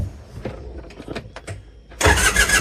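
A mini excavator engine cranks over quickly with a burst of rapid starter whirring, then catches and roars into a loud, rough idle close by.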